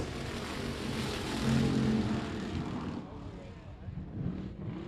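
A race car accelerates at night on the I-37 Speedway during the DTK Memorial, its engine a broad, distant roar that swells and then fades, heard beneath a track announcer's commentary.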